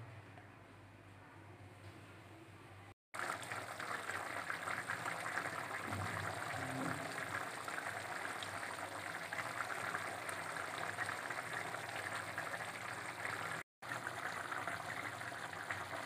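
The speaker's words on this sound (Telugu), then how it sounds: "హైలో పెట్టుకుని బాయిల్ చేసుకోవాలి." Tamarind water with green chillies, on high heat for a prawn and banana curry, bubbles and rushes steadily, a continuous faint watery boiling roar with two brief dropouts.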